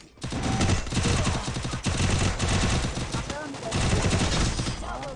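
Rapid automatic gunfire rattles in a shooting video game, dense loud bursts nearly continuous across the short stretch, with players' voices talking underneath.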